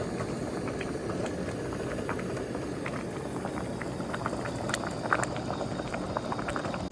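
Eggs boil in a pot of water, giving a continuous bubbling, rumbling simmer with small pops and ticks scattered throughout, steady and moderately close with no voices.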